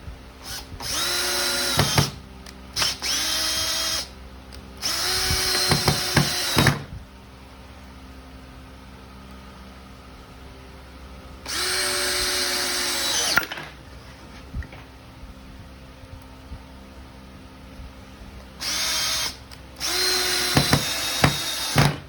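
Power drill driving 1.5 inch wood screws, heard as several separate bursts of whirring motor, each a second or two long, with pauses between them, close and loud.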